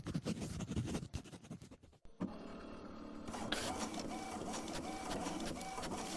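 Inkjet-style printer whirring and clattering through a page inside a horror video game, a steady mechanical buzz with rhythmic ticks after a brief pause, preceded by a busier stretch of game sound.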